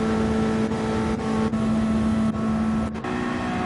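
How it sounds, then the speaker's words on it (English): A Ferrari race car engine in a racing game on the Daytona oval, a steady droning tone with a sustained buzzing pitch and brief dips, running continuously and fairly loud. "You can hear the Ferrari."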